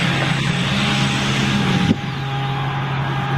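A Scania V12 diesel truck engine roars steadily at a tractor pull, a dense, continuous drone that dips slightly about halfway through and holds on without a break.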